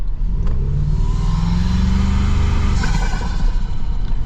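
Loud, close exhaust of a 2025 Toyota Tacoma Trailhunter pickup rumbling steadily with a deep throaty drone, rising slightly in pitch midway as the engine revs a little.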